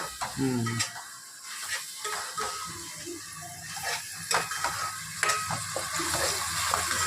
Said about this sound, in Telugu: ఉల్లిపాయ వేగింది, చికెన్ వేసేస్తాను